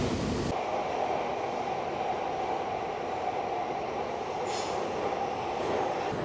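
A train rumbles past close by, a continuous low roar of rolling wheels and rail noise that holds steady throughout.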